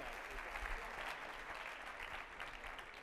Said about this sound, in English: Give these two a round of applause as they head back towards the seats.